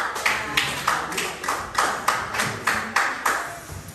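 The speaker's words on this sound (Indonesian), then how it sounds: "Oke, aplaus untuk kelompok." A small group of people in a classroom applauds a presenting group, with steady rhythmic clapping of moderate loudness and no one speaking over it.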